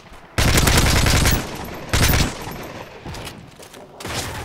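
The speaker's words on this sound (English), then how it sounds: "What did that guy shoot me with" Gunfire in the video game Modern Warfare 3 during a Domination match: loud bursts of automatic fire, a long volley followed by shorter bursts, close and dominant with no talking.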